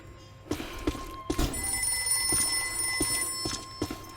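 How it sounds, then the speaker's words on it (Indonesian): A telephone rings repeatedly in the Ghostbusters video game, a bright electronic bell tone in regular bursts over faint game ambience and soft thumps. "Itu telepon bunyi mulu setiap ini."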